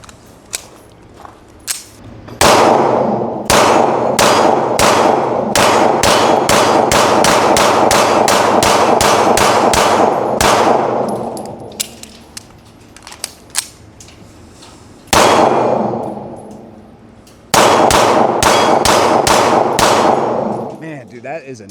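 A Wilson Combat EDC X9 2.0 pistol fired at an outdoor range during a torture test, loud sharp shots in rapid strings with short pauses between magazines, each crack ringing out close and hard.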